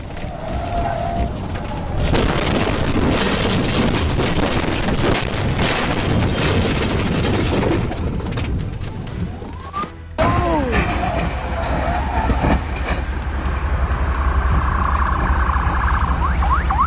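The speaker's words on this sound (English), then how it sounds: "the driver lost control while attempting to avoid lane markings, sending the vehicle off the roadway and causing it to flip violently during the crash" A car loses control, leaves the road and flips, heard as a long, loud roar of crashing and tumbling noise with heavy thuds and impacts, then a sudden cut to steady rushing noise with faint tonal sweeps.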